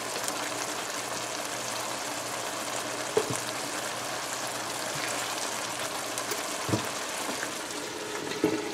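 Guyanese latpat fish curry simmering in a covered pot, a steady soft sizzle and bubbling hiss close by, with a few faint clinks of the lid or pot.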